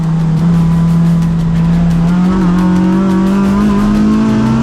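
Honda Civic race car on slick tires at full racing speed, its engine holding a loud, steady high-pitched drone that climbs gradually as it pulls harder, with faint tire noise underneath.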